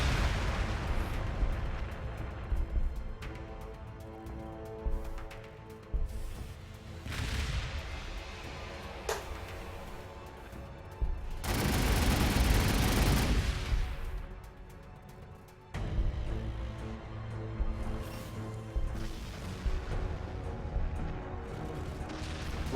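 Cannon fire blasts apart a Canoptek Spider in a Warhammer 40,000 video game, with booming explosions and mechanical rumble across the stretch and one heavy burst standing out loud in the middle.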